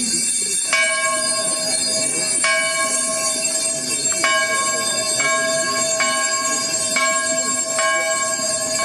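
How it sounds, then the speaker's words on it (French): The Péniti chapel bell in Locronan rings out during the Grande Troménie evening vigil, with clear repeated strikes at an uneven pace, each one ringing on over a steady background hum. "Que sonne la cloche du Péniti."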